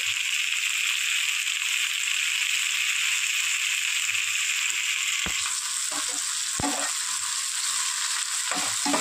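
Beans, carrots and chopped green chilli fry in a pan for an egg fried rice, a steady loud sizzle throughout with a few sharp clicks of a spatula or utensil near the end.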